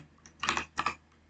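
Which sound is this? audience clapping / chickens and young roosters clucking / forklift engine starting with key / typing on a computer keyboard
typing on a computer keyboard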